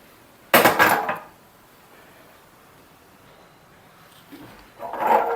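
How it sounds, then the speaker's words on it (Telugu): A pan set down on a kitchen stove for tempering gongura dal, one loud metallic clank with a short rattle, then quiet before a softer scrape of cookware near the end. "ప్యాన్ పెట్టేసుకున్నాం కదా"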